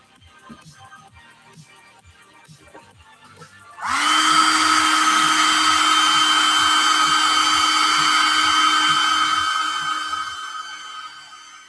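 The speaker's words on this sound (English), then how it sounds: "let's get that old hair dryer." A hair dryer switches on abruptly and blows with a loud, steady whine and rush of air for several seconds before winding down.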